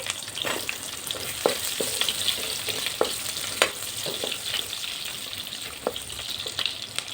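Onions fry in oil for a paneer butter masala gravy, a continuous close sizzle broken by sharp spatula taps and scrapes every second or so, steady and moderately loud with no speech.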